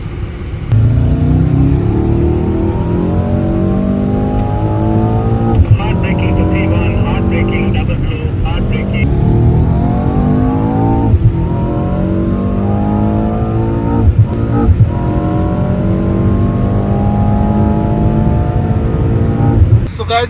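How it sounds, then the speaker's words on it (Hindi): Mercedes S63 AMG accelerating on a race track, its engine note rising steadily through repeated upshifts and droning loud and continuous for the whole stretch, with a voice talking over it inside the car. "गाइस हम बैठे S63 AMG में।"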